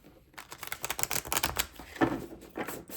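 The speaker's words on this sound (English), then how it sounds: "These are hard to shuffle, I will say that." Tarot cards are shuffled in quick riffling bursts of papery clicks and flutters, close and fairly quiet, without talking.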